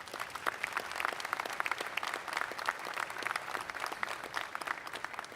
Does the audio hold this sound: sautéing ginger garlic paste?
no